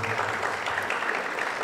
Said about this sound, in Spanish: Yo quisiera que se le dé un fuerte aplauso a Melissa